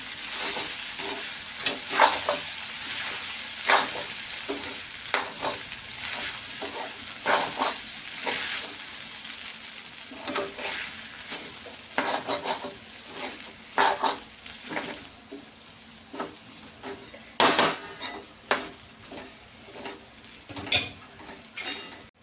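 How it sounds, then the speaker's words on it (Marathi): Vegetables sautéed in a pan give a steady sizzle over medium heat, punctuated by frequent rhythmic scrapes and clinks of a spoon against the metal pan, close and clear. "ह्याला छान परतून घ्यायचं"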